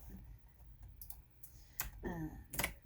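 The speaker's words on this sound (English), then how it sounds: "I'll be doing a lot of clicking." A computer mouse clicks softly in a quiet room, a scattered series of sharp close clicks, with a faint breathy sound near the end.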